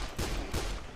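Two quick bursts of gunfire from the Dead Island video game, sharp and fairly loud, arrive a short moment apart.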